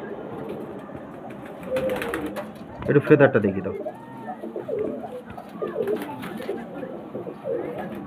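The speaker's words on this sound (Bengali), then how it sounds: "খুব অ্যাক্টিভ পায়রা, ছটফটে পায়রা" Lively old-generation pigeons held for sale coo in low bursts close by, with a flurry of wing movement near the middle, while someone talks over them.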